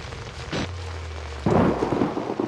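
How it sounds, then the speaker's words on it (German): Thunder in the horror video game Outlast: a sharp crack around the half-second mark, a low rolling rumble, then a louder broadband burst that keeps booming with rain-like hiss, close and heavy, with no voices. "Oh, ich erschrecke ja schon bei dem bisschen Donner hier."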